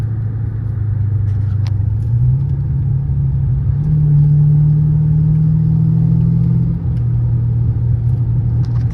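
A deep, loud V8 engine of a 1997 Mercury Cougar XR-7 with 153k miles rumbles steadily, its pitch climbing and settling as it revs, with no voices over it.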